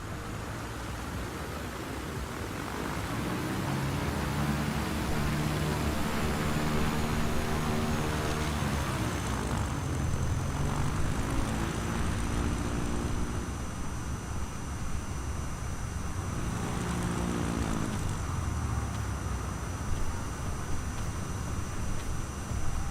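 Propeller aircraft taxi on the ground in Microsoft Flight Simulator 2020 during a South African bush trip, a steady droning engine hum with slow rising and falling tones, holding constant for over twenty seconds.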